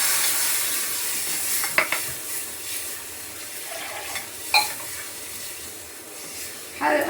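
Turmeric and coriander powder sizzle in hot oil as a steady, close frying hiss, broken by a few sharp clinks of a spoon against the pan.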